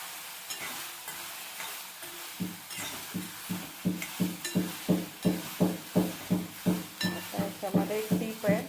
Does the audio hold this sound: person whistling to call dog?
no